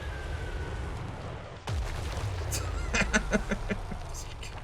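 Video game battle with a low rumbling bed of distant artillery, then a sudden heavy boom followed by a quick cluster of sharp shots and cracks, fairly close, with faint voices in the mix.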